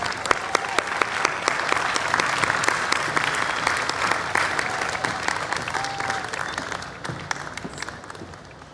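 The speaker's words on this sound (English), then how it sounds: "Let's give her a big round of applause." A large audience at an outdoor cultural festival applauds steadily, with a dense wash of many hands and a few sharper individual claps standing out, fading slightly toward the end.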